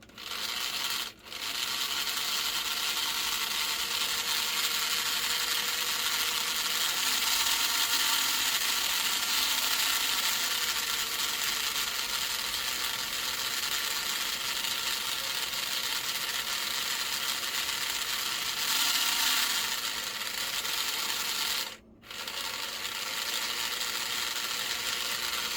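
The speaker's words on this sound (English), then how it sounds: "right, so the motor's whizzing around, but nothing's happening. I think that might be a gear broken." Tomy Turbo Racer toy motor whizzing steadily with a broken gear, a continuous fairly loud mechanical whir with faint ratcheting texture, briefly cutting out twice.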